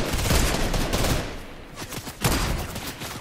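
Rapid video game gunfire in bursts, loud and close, with a short pause in the middle before a second volley, no talk over it.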